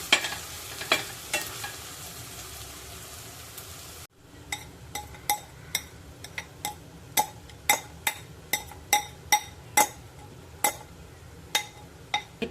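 Milk-soaked fenugreek seeds stir-fried in ghee in a pan over low heat for methi ladoo, a soft steady sizzle broken by regular sharp clinks and scrapes of the spoon against the pan.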